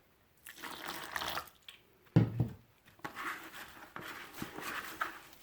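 Water poured by hand onto soil over freshly planted moringa seeds, a close, soft splashing and trickling in several short bursts with brief pauses between them.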